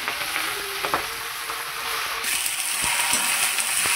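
Leafy greens frying in hot oil in a pan, a steady close sizzle and crackle with a few sharp spatters and light stirring clinks, no voices.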